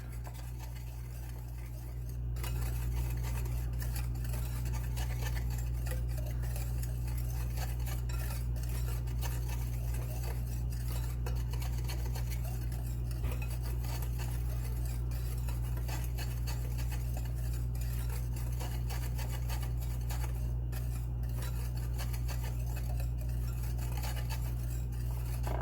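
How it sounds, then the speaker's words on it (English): Dry pumpkin pancake ingredients whisked together in a bowl make a quiet, continuous scraping and tapping of metal against the bowl over a low steady hum, starting after a brief pause. "When you have your dry ingredients in here, you're gonna whisk it together."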